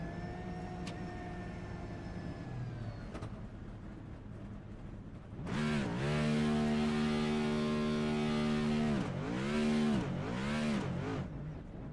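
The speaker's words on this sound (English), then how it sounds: "Let's listen to this full burnout." A race car in a sim racing game performs a full burnout: after a quieter stretch with a faint tone, the engine bursts into a loud, sustained high rev, holds, then drops briefly and revs again before stumbling.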